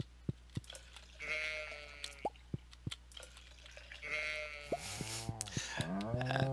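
Goats in Stardew Valley bleat in several short, wavering calls that grow more frequent toward the end, mixed with sharp drip-like plinks in a farm setting.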